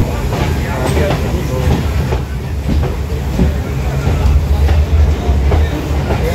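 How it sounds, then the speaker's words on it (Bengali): A train pulls into Barrackpore station with a loud, continuous rumble and close clattering of wheels and carriages, rising slightly as it arrives. "ট্রেন এবার চলে এলো ব্যারাকপুর স্টেশন।"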